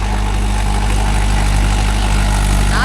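A Mahindra 415 DI tractor engine runs steadily in farmland with a cultivator, a loud, close, continuous low diesel drone with an even throb and no pauses.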